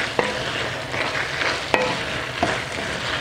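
Vegetables with green pepper stirred in a frying pan, a steady sizzle broken by a few sharp scrapes and clinks of the spoon against the pan, close and with no talking.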